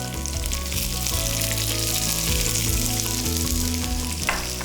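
Onions sauteing in hot oil along with cumin seeds, a steady close sizzle that runs the whole time, with a tonal hum in the background and a brief clatter near the end.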